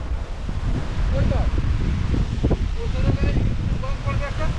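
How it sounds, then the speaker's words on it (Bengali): Strong wind on a small island in the Sundarbans buffeting the microphone in a constant low roar, with faint voices and occasional bird-like chirps in the background. "ভয় লাগছে হাওয়া উঠেছে তো"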